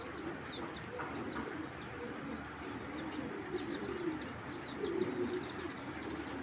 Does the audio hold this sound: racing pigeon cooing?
yes